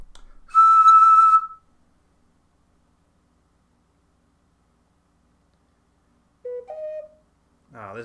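A handmade ocarina plays one clear, sustained whistle-like note, then falls silent. A second, shorter pair of notes follows, and a brief voice sound comes near the end.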